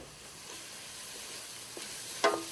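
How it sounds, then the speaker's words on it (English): A steady, fairly quiet sizzle of garlic frying in oil for a meat ragu, with a brief utensil scrape or clink near the end. "once the garlic starts frying"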